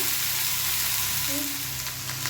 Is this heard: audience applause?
no